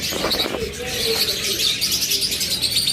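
Small pet birds such as lovebirds, cockatiels, budgerigars and finches chirp together in a steady, busy chorus of high tweets, fairly close and continuous throughout.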